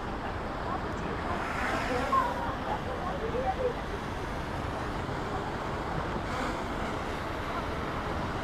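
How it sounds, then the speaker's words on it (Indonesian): Seaside wind buffets the microphone near a sunken mosque on the flooded Jakarta coast, a steady rough rumble with surf hiss, and faint voices underneath. "gua ngecek angin dulu"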